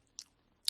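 Two crisp bites into vada eaten with South Indian tomato onion chutney, one at the start and a louder one near the end, close and alone with quiet between.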